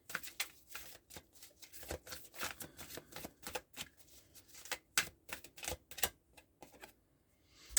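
Journey of Love oracle cards being shuffled by hand, a steady run of quick papery riffles and flicks, close and fairly quiet, with no one speaking.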